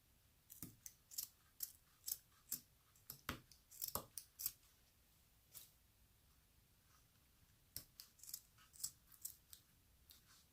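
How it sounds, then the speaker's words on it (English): Quiet, irregular snips of scissors cutting coarse burlap, a series of crisp clicks and crunches with short pauses, close by and faint. "My scissors don't like this burlap very much."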